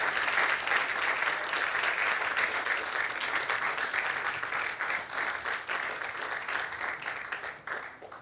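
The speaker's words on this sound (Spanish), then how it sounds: "Dele un fuerte aplauso a Cristo Jesús." A church congregation applauds loudly and steadily, a dense wash of clapping that holds for several seconds before thinning slightly toward the end, with no voices over it.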